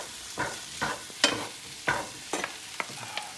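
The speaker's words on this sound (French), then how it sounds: "on prend nos gnocchis, on mélange ça avec" Gnocchi and mushrooms are stirred in a pan, giving a series of short, separate scraping and clattering strokes at an uneven rhythm, close and moderately loud over a faint sizzle, with no talking.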